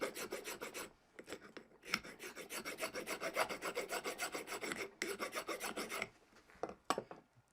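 Metal files rasp against catlinite pipe stone, shaping and rounding an edge in steady back-and-forth strokes, close and fairly loud, with a few brief pauses between bursts and no talking.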